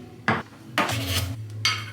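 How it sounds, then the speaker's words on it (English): A whisk rattles and scrapes inside a plastic cottage cheese cup while matcha is mixed, in a few short, close bursts of clattering with quiet gaps between them. "I cleaned my cottage cheese cup and we're gonna use it to whisk matcha"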